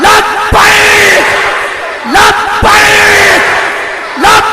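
A large crowd roars the slogan Labbaik in unison, loud repeated shouts rising and falling in a steady chanting rhythm.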